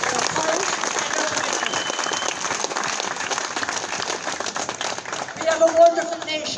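A protest crowd in Cork City keeps up dense, continuous applause against the cost of living. The clapping thins toward the end as a few brief tonal sounds and voices come through.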